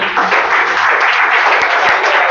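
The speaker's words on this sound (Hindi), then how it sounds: "चलिए एक बार अपने लिए ताली बजाइए।" Students in a class clapping together for themselves, a dense, steady burst of many hands that fills the room loudly for a couple of seconds with no talk over it.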